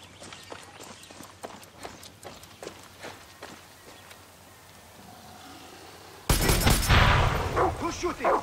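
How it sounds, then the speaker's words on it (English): A burst of loud, close gunfire in the Far Cry 6 video game erupts suddenly after a stretch of hoofbeats and footsteps, with voices talking over the scene. "Someone's shooting!"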